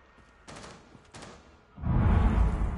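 Gunfire in Rainbow Six Siege: two short bursts of shots a moment apart, followed by a louder, sustained boom of heavy noise, with no talking.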